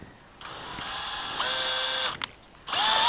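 An 18 volt cordless drill fitted to the shaft of a drill-powered jack whirs in bursts, its motor pitch rising and falling as the jack is driven, with brief pauses and clicks between runs.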